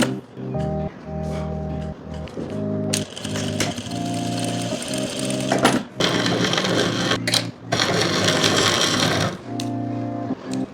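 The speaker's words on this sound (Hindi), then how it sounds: "इंटरलॉक भी लगानी है यहाँ पे" A sewing machine stitches an interlock seam on a kurti in rapid mechanical runs of a few seconds each, broken by short pauses, close and fairly loud.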